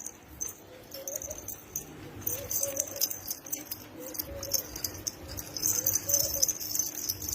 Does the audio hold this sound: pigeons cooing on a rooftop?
yes